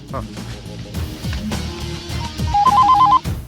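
A telephone rings with a quick repeating electronic trill toward the end, over loud background music and voices.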